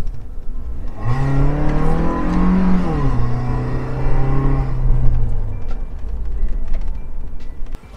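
Suzuki Jimny tuned with a modified exhaust, intake filter and remap accelerating hard, a loud rising engine howl close by that peaks, dips at a shift, then carries on before fading, with no talking.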